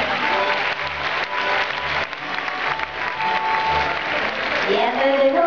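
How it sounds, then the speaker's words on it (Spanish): Crowd applause rings out for a volunteer at the Oceanogràfic dolphin show, a continuous, fairly loud wash of clapping from the stands with faint voices mixed in, tapering slightly toward the end. "lo recibimos con un fuerte aplauso"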